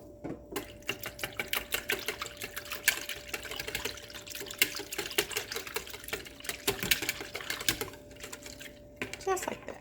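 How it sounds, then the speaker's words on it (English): Egg, honey and cream are whisked together in a bowl, making a rapid, steady run of light clicking and tapping strokes, fairly close and continuous, over a faint hum. "You'll need to add 1 egg and 3 tablespoons of honey to your bowl, and then you're gonna whisk it all together."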